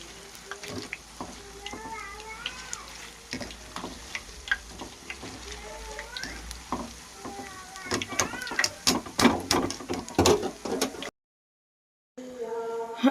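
Punugulu fritters deep frying in hot oil for an after-school snack, a steady crackling sizzle with clinks from a utensil, speech-like tones above the hiss, and a brief silent gap near the end.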